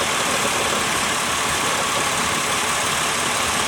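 A Ford Windstar's 3.8L engine idles with a cylinder 3 misfire, giving a steady, broadband running drone heard close and alone, with no speech.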